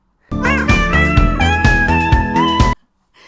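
Tonal, pitch-bending cat-like wails woven into an eastern-flavored, pedal-distorted passage of a song, sounding as a continuous sequence of sung, sliding meows over a steady musical bed before stopping abruptly.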